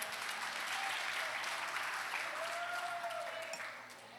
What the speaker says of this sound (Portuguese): Aplaude ao Senhor, porque Ele é digno.